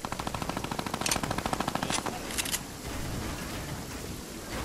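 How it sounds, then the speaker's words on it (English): Rapid bursts of automatic gunfire from a silver gun in a battle royale video game, a fast rattling volley in the first half that gives way to steady background noise. "Shooting him with the silver gun."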